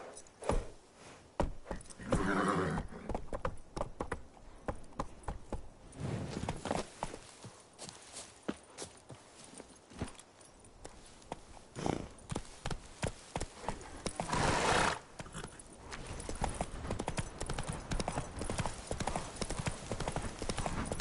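The horse Roach trots with steady, close clip-clopping hooves throughout. The sound swells into louder bursts now and then, and faint snorting and movement noises sit underneath.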